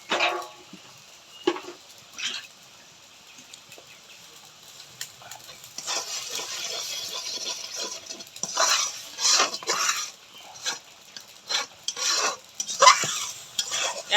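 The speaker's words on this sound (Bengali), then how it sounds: "এখন এটা ভালো করে কষিয়ে নেব।" Spices and shrimp being stirred in a pan, with quiet scraping and clinks of a utensil against the metal, faint at first and then louder bursts of stirring, no speech.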